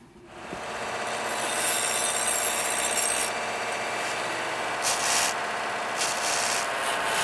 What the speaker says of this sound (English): I'm going to take this back inside and hit it with the Scotch-Brite on all the high spots